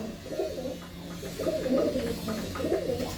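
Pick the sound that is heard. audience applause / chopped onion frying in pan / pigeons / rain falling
pigeons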